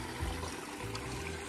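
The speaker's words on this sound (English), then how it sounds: "the water gets pumped in right here" Water pumped into a diamondback terrapin pond enclosure, a continuous close trickling and splashing flow with a few gurgling surges.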